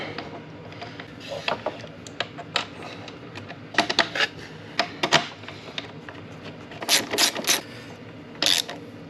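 A shock bolt with a spacer being fitted on a KTM snowbike with a Moto-Trax track kit, heard as irregular close metallic clicks, ratcheting and small clanks, some in quick bursts, with no talking.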